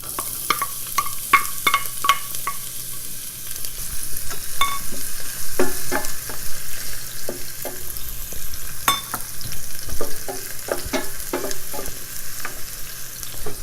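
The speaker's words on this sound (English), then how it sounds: "you could see that sizzling. And I'm going to add the onion." Onion sizzles steadily in a hot pan for chicken curry, with repeated clinks and scrapes of a utensil stirring throughout; close and fairly loud, no talking.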